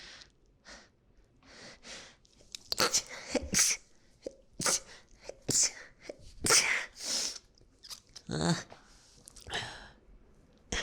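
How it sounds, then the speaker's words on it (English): Close, breathy sounds build into a series of sharp sneezes, separated by gasps and sniffs. "I'm gonna sneeze."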